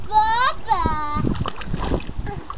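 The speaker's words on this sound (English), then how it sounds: "he likes to splash himself" A small child splashes himself in water, the choppy splashes coming in irregular bursts after a stretch of high, sing-song childish vocalizing and nearby voices.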